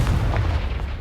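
Confringo blasting curse explosion in the video game Hogwarts Legacy, fought in a spider-infested cellar: a brief, loud, low rumbling blast that fills the moment without a clear sharp onset.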